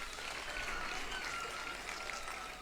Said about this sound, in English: Please clap for her again.